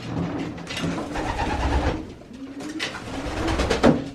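Young pigeons in an aviary coo repeatedly in soft, low, throaty murmurs, close by, with rustling and some background noise.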